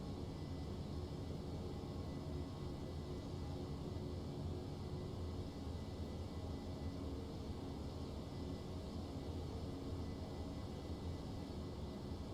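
Airbus A321 engines roar during the climb-out in the X-Plane 11 flight simulator, holding a constant, even broadband drone from start to finish without any speech.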